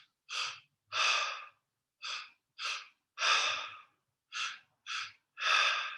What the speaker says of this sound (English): Double inhale, exhale.